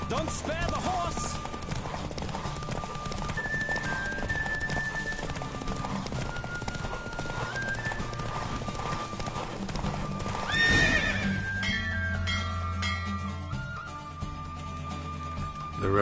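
Rapid rhythmic hoofbeats of a galloping horse in The Witcher 3: Wild Hunt during a horse race pound on steadily, with occasional whinnies and snorts over a busy game soundtrack.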